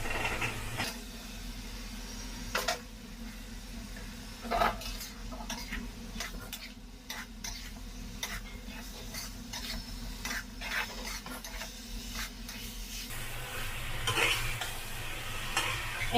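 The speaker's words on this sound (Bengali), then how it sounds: "এখন আমি ডাটা ঢেলে দিব।" Vegetable stalks are tipped into a pan with prawns and fry with a steady sizzle while a utensil scrapes and stirs against the pot, clinks and knocks coming through close up without talk.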